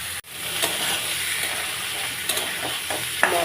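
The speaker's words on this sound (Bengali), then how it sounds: "মশলার সঙ্গে আলু আর পেঁপে ভালো করে ভেজে নিয়েছি, তার সঙ্গে চিংড়ি মাছ দিয়ে।" Potato, papaya and shrimp frying with spices in a pan, a steady close sizzle and hiss with a few soft clicks of stirring.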